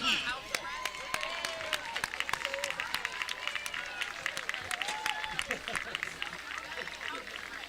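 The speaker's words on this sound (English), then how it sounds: "how about one more big round of applause for our homecoming court?" Crowd at a high school homecoming football game applauding the newly named homecoming king, dense continuous clapping with scattered cheers, with an announcer's amplified voice heard through it.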